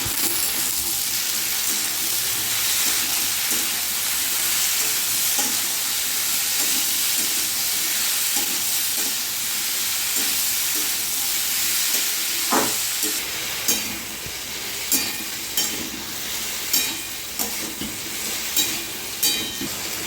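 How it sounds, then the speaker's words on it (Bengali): Ridge gourd stirred in a pan with slit green chilli, cumin and salt, giving a steady hiss of frying, then a run of close, regular scraping and clinking strokes of a spoon against the pan. "ভালো কষিয়ে দিচ্ছি।"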